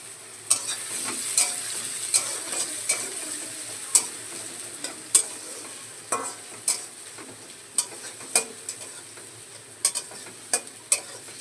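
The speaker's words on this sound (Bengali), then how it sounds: "এটা পেঁয়াজটা লাল লাল করে ভাজা হোক" Chopped onions fry with whole garam masala in a pan, a soft steady sizzle broken by repeated sharp scrapes and knocks of a spoon stirring at irregular intervals, close and clear with no talking.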